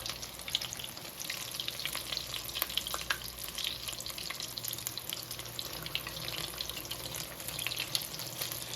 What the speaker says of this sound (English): You see them with that sizzle when you first put them in.